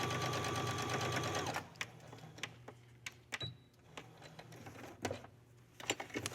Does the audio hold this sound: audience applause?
no